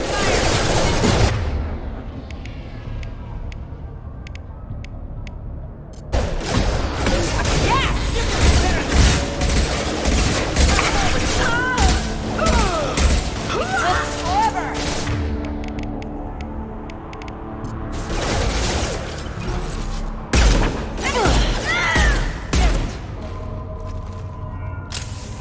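Mass Effect 2 video game gunfire, with loud bursts of automatic weapon fire coming in several waves separated by brief lulls, while voices shout over the shooting.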